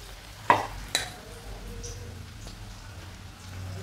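Vada batter drops by hand into hot oil in a home kitchen, with two sharp splashes followed by a soft, steady sizzle of frying.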